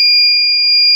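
Loud, steady, piercing electronic wail of a homemade relay-triggered anti-theft door alarm, one unbroken tone close to the microphone with nothing else over it.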